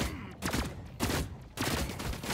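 Gunfire in The Cycle, several loud, sharp bursts of rapid shots close by, split by short gaps.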